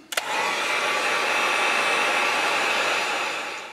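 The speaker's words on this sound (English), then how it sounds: "we're going to take the heat gun and dry it off good" A heat gun blows steadily and loudly on a fishing lure freshly painted pearlized green, starting after a brief click and holding a constant airy roar with a faint whine for nearly four seconds, with no talking.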